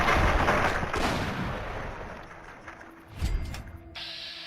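Grenade blasts in Fallout 3, two heavy booming explosions, the first loud at the start and a second about three seconds later, each fading into a rumbling tail with quieter mechanical game sounds between them.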